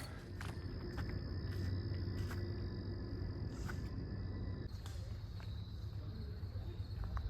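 Insects in the woods at Maryland Heights Overlook above Harpers Ferry keep up a steady, high chirring drone that runs the whole time, with faint rustles and footsteps on the trail underneath.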